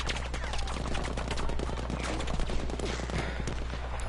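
Dense bursts of rapid gunfire from a team firing down a road in a mock battle, overlapping shots crackling continuously and loudly throughout with no pauses.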